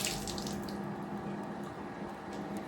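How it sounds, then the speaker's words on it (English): Tap water runs steadily while dirt is washed off by hand in Ghana, a continuous close splashing stream with no break. "so I'm washing the dirt off here."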